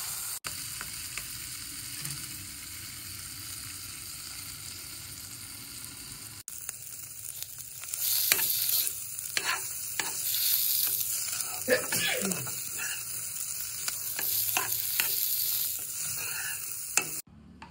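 Papaya flowers frying and being stirred in a pan, a steady sizzle with scraping spatula strokes that grow busier and louder partway through, close by.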